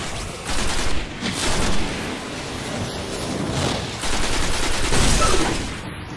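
Sustained automatic gunfire hammers at a gate in the video game Destiny, dense rattling bursts swelling and easing over several seconds, loud and close with no speech.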